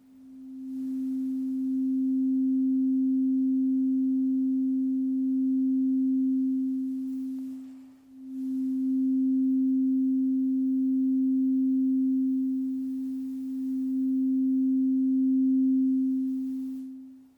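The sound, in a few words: musical mushroom playing crystal singing bowls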